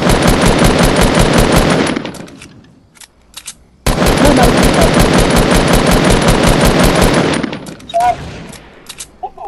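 Video game gunfire with sniper shots: two long, loud bursts of rapid automatic fire separated by a short lull with scattered single shots, plus a few isolated cracks at the end.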